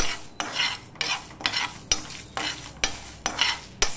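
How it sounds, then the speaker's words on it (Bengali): Panch phoron, coriander, cumin and five dried chilies dry-roasting in a pan for pickle, with repeated scraping stirs at a steady rhythm, each stroke a close, dry rasp and sizzle, no talking. "এখানে 2 চামচ পাঁচফোড়ন নিয়েছি, এই চামচে 2 চামচ ধনে, 2 চামচ জিরে, আর এই কটা 5টা লঙ্কা নিয়েছি। এগুলো আমি ভেজে নেব ভালো করে"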